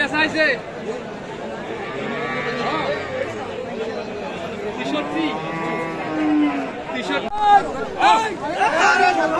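Cattle moo repeatedly at a busy rural cattle market in Aftabganj, Bangladesh, where beef cattle are sold; long, drawn-out calls overlap one another, some near and loud, over a steady murmur of crowd chatter and voices.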